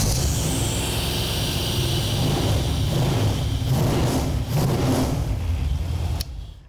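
Car engine running in a garage, a loud, steady rumble with a few subtle swells in revs that holds for about six seconds before cutting off abruptly.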